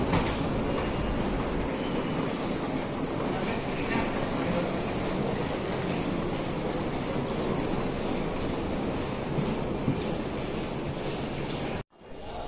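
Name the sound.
Chengdu metro train riding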